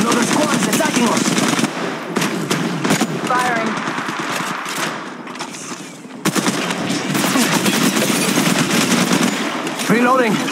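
Rapid automatic gunfire from an attacking squad in the Apex Legends battle royale, dense bursts of shots rattling almost nonstop with a brief lull midway, while players talk over the fighting.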